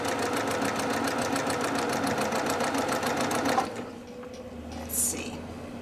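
A Brother PQ 1500 sewing machine stitches over thick embroidery at the shoulders, a fast steady mechanical rattle that stops abruptly after about three and a half seconds, leaving quieter handling noise; loud and close.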